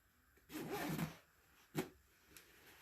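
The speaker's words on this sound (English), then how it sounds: "you're going to want to zipper your jacket up" A jacket zipper is drawn up on a homemade training dummy, giving one longer rasping pull and then a short second tug, close and quiet.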